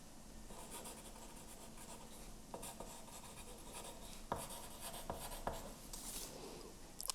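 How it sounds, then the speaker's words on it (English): A pencil scratches and scribbles across paper while sewing pattern pieces are traced and labelled, quiet close strokes with a few soft taps and rustles. "I name all the pattern pieces that I draw"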